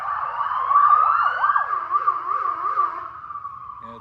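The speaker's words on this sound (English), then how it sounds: "it's a fire engine" A wailing fire engine siren rises and falls repeatedly, fairly close and loud, sweeping through a couple of cycles before fading slightly.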